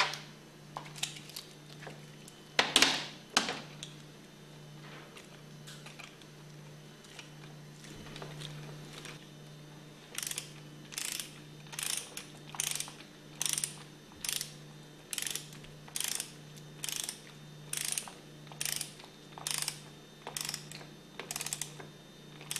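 A torque wrench tightens a steel bolt into the aluminum piston of a Hypro diaphragm pump, with a few early scattered clicks followed by a long, evenly spaced series of sharp ratchet clicks, close and fairly quiet.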